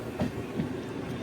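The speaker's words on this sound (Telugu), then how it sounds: "Goods train." A goods train rolls past alongside a moving passenger train near Doddaballapur station, a low steady rumble with a couple of heavier thuds, heard from inside the carriage.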